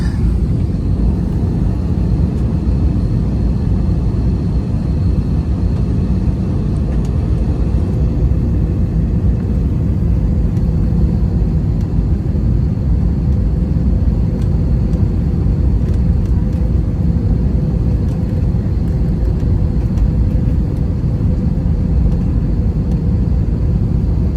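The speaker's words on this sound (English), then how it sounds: "Okay, we're landing." An airliner lands in Thailand, heard from the cabin as a steady, loud low roar and rumble of engines and airflow that continues without a break, with no clear talking.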